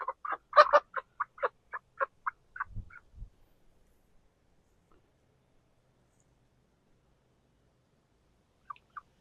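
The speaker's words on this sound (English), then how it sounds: "and there are chickens in here" A string of clucking, gobbling poultry calls in quick succession, then two low thumps, near silence, and a brief final cluck.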